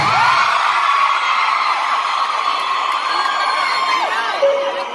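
Screaming fans fill an arena at a Mixtape Tour concert, a sustained loud roar of high shrieks and cheers with piercing individual screams rising above it.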